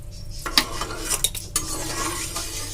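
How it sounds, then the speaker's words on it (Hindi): Rice is tempered in desi ghee in a pan, with close metal spoon scrapes and stirring clatter over a soft sizzle, with no talk. "मैंने केवल देसी घी के तड़के में चावल डाल दिए हैं"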